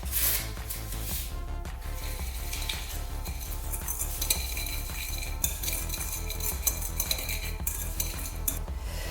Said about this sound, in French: on ajoute le sucre et le petit paquet de sucre vanillé et on mélange bien jusqu'à ce que ce soit une pâte assez lisse